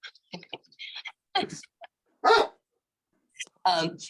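During a meeting roll call, a dog gives a few short barks and yips in bursts amid quiet gaps, mixed with brief speech.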